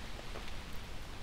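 Steady rain pattering on a tent and tarp at a campsite, a dense, even hiss of drops up close.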